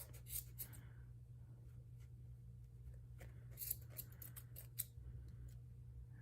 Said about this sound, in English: you're gonna cut all of the connected pieces all the way around